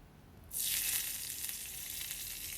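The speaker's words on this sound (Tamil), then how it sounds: "எண்ணெயில் வந்து கடுகு, அதுக்கப்புறமா கருவேப்பிலை மட்டும் சேர்த்து நான் இந்த தாளிப்பை வந்து சட்னியில் சேர்த்துட்றேன்" Mustard seeds and curry leaves tempered in hot oil for a brinjal chutney erupt into a loud, steady sizzle that starts suddenly and holds, close and alone.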